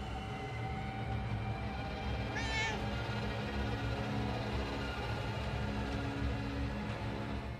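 A cat in the video game Murdered: Soul Suspect gives a single short, clear meow over a constant low rumbling background.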